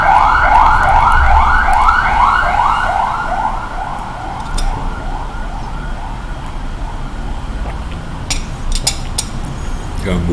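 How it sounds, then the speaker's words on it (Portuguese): An ambulance siren wails loudly in a fast repeating rise-and-fall pattern as it passes, then gradually grows fainter against steady traffic rumble. "A ambulância passar."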